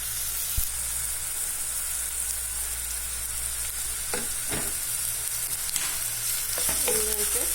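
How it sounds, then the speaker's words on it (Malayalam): Onions with ginger garlic paste sauté in a pan for a simple chicken curry, giving a steady, close sizzle and hiss throughout, broken by a few soft scrapes of stirring. "ഉള്ളി നന്നായിട്ടൊന്ന് വഴറ്റിയെടുക്കാം."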